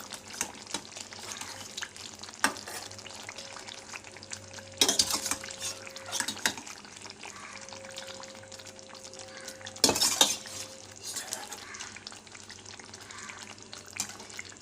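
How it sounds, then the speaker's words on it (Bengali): Shahi paneer pieces being stirred into gravy in a pan, soft scraping and wet stirring under a low sizzle, with two louder clattering bursts of utensil contact. "সমস্ত কিছু একসাথে দিয়ে আমি এগুলোকে নাড়া দেবো"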